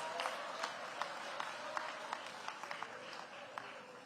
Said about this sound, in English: Give them a round of applause for all of the staff here at Phelps.